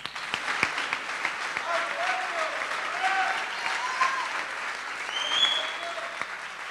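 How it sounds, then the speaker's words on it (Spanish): A large audience claps steadily for several seconds at a university conference closing, a dense, even patter of applause heard from within the room. "Aplausos."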